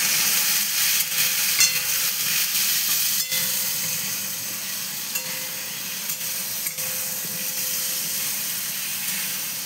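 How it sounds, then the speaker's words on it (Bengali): Turmeric paste and spices frying in a pan for a Bengali lau tarkari, stirred steadily: a continuous close sizzle and hiss with scraping stir strokes throughout, no talking. "এই যে এবারে নেড়ে নেবো ভালো করে।"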